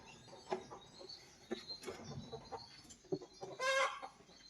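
Hens cluck at close range near a nesting setup for hatching eggs, giving soft, irregular clucks and a louder squawk near the end, with light rustling.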